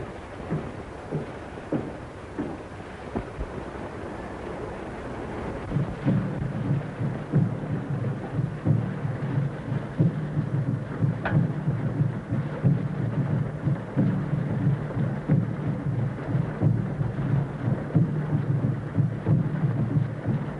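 Heavy rain with rolling thunder from a 1932 film, a dense steady downpour that thickens midway into a loud continuous roar with low rumbles beneath, no voices present.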